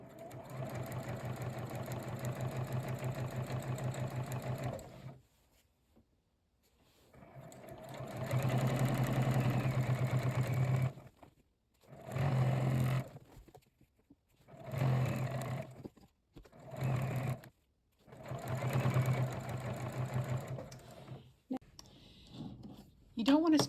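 Sewing machine stitching binding onto the edge of a quilt, running in steady bursts of rapid stitching separated by short pauses, close and clear.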